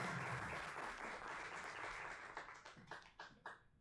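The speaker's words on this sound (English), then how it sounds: "Let's please hear a big round of applause for Mr." An audience at an alumni talk event claps for a guest speaker, a dense round of applause that thins into scattered individual claps before stopping.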